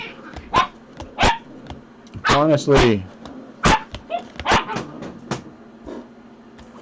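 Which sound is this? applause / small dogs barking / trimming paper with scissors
small dogs barking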